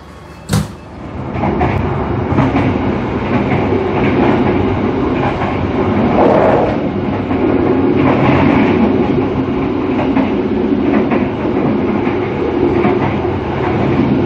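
KA Fajar Utama passenger train running on rails between Jakarta and Solo, Indonesia, heard from inside a carriage: a steady, loud rumble with faint rhythmic clicks of wheels over rail joints, continuous throughout after a brief knock at the start.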